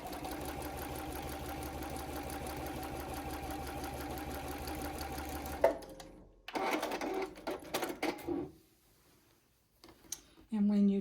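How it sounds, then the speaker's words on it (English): A sewing machine runs steadily, stitching quilt binding in a straight seam with a fast, even mechanical hum, then stops and is followed by clicks and handling noises. "we're just going to sew straight down this"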